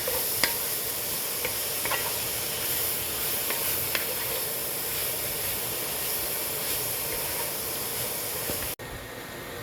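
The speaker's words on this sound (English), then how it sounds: "now we're going to add our broccoli in there. We're going to cook these up for about 3 minutes until they get a little tender." Broccoli sautéing in a pan, a continuous bright sizzle with a few faint clicks of stirring, steady and fairly close, cutting off abruptly near the end.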